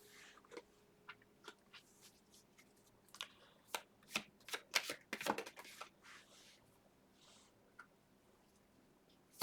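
Tarot cards being shuffled by hand, a quiet sequence of crisp riffling snaps and soft clicks that cluster in a busier burst midway, with no speech.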